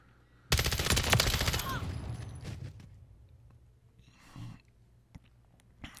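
An HRM-9 gun fires a rapid, dense burst of shots lasting over a second, loud and close, followed by a fading tail and a couple of faint knocks and a breath afterward.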